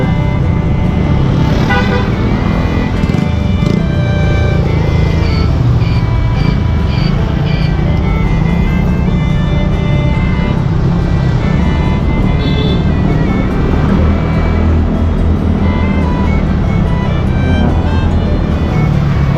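A car driving along a road toward a school outside rush hour, heard from inside as a loud, constant engine and road rumble with a few short horn-like tones over it, without speech.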